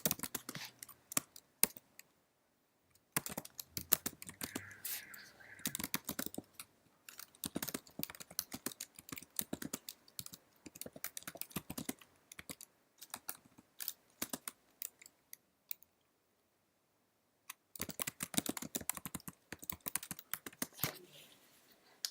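Computer keyboard typing in close, crisp bursts of rapid keystrokes, separated by brief silent pauses, with no talking.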